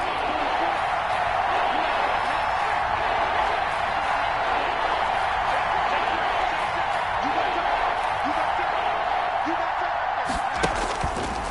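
The crowd in a video game football stadium roars continuously and evenly throughout, filling the scene with dense, steady noise. A few louder bursts come near the end.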